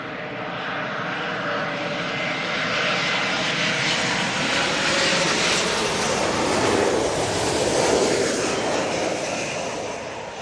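A Boeing 777 at London Heathrow roars past with a loud, sustained engine noise, swelling slightly toward the end as it passes close by, with no talk over it.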